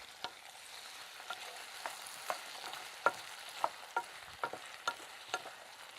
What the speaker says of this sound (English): we can add the diced swede and the potato, and we can cook and stir for about 5 minutes